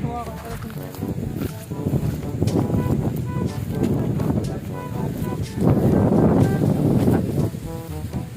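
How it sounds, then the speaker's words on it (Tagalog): Strong gusting southwest monsoon wind buffets the microphone, rising and falling, with voices talking over it at times. "Hangin ngayon, ang hangin ni habagat"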